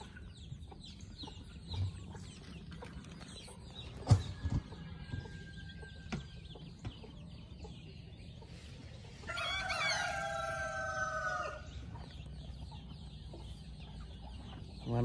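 A Beaufort Pinto hen among Rhode Island Red chickens on a small farm sounds a short run of repeated, harmonic clucking calls midway through, over a quiet outdoor background broken by a few soft knocks.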